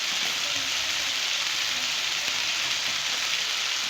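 Chicken for a Lahori korma fries in a pan, giving a constant close sizzle and crackle like light rain, loud and even with no voices.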